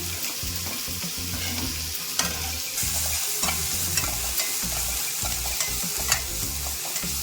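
Onions sautéing in a pan, a continuous close sizzle with a spatula stirring and scraping in a busy, uneven rhythm throughout, fairly loud and without talk.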